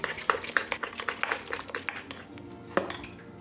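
Malpua batter being mixed with baking powder and baking soda, a spoon or whisk clinking and scraping against the bowl in quick irregular strokes, close by, with one sharper knock near the end and no talking.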